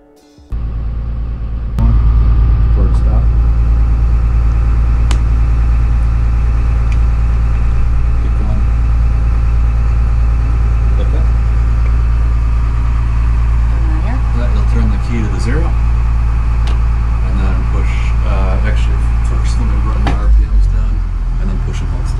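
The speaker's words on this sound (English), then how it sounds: "while the engines are warming" Deep, steady rumble of a Nordhavn 43 trawler yacht's engines idling while warming up close by, a constant low drone with faint voices and small clatters over it.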